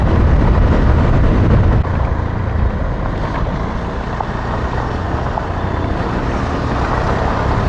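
An adventure motorcycle rides over patches of light loose gravel with ABS set to off-road mode, giving a steady, loud broadband rumble of engine, tyres and wind that continues throughout with no talking.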